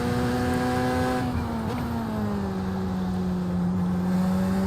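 Two iRacing endurance racers, an LMP2 just out of the pits with a GTP prototype close behind, drone loudly and steadily at Virginia International Raceway, one engine pitch dipping and settling as they run in traffic.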